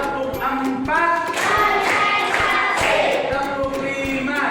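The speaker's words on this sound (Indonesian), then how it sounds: "Tepuk 1, tepuk 2, tepuk 3," Children sing a counting clap song in a classroom, their voices rising and falling over sharp, evenly spaced hand claps that land in rhythmic groups, close and fairly loud.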